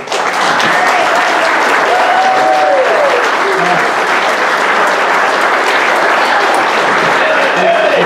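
Loud, sustained crowd applause at a racing series awards banquet, continuous clapping from a large room with faint voices and whistles mixed in.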